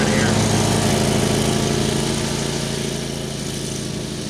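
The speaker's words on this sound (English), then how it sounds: "Sorry, my wife's mowing." A lawn mower runs steadily nearby as a loud, constant engine drone that fills the whole clip and eases slightly toward the end.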